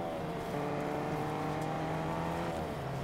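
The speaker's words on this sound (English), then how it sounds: "There's someone there driving a truck." A truck driving nearby in the Fortnite video game, a steady engine drone with layered tonal hum sustained evenly throughout at moderate loudness, no speech.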